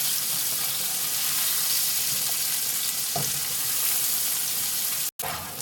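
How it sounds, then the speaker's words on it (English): Onions, black pepper, bacon and sausage sizzle steadily in a pan, with a brief burst of stirring partway through; the frying hiss runs continuously and fairly loud close by before cutting out for a split second near the end. "I am now going to add the onions, black pepper, and just mix that in."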